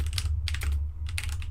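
Clicky mechanical computer keyboard typed in quick bursts of keystrokes with short pauses between, close and crisp over a steady low hum, no voice.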